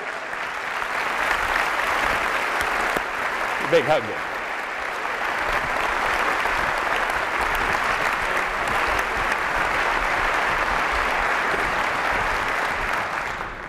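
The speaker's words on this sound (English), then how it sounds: "How about a nice round of applause" Applause from the crowd at a community breakfast held by a school educational foundation, a broad sustained roar of clapping lasting throughout, with someone briefly speaking over it near the start.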